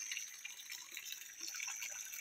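Spring water flows steadily at a rural farm spring, a soft continuous hiss and trickle with no voices.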